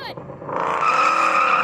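An AMG SLS Black Series and a Mustang Shelby GT500 launch side by side in a drag race, engines rising into a loud sustained roar with a short tire squeal at the start, close and dominant.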